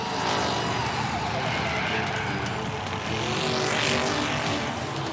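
A cartoon race car speeds around a race track, its loud, steady engine roar with tire squeal and whooshing passes running continuously, no talking.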